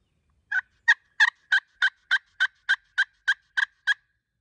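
A wild turkey gobbles during a Wisconsin spring hunt, a rapid run of about a dozen evenly spaced, loud clucking pulses, fairly close and alone with no talk over it.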